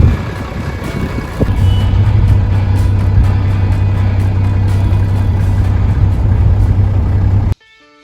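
A Toyota Landcruiser 105 with its 1HZ diesel engine idles in stock form, before any turbo or exhaust kit, a steady low rumble held close and loud with no talk until it cuts off abruptly near the end.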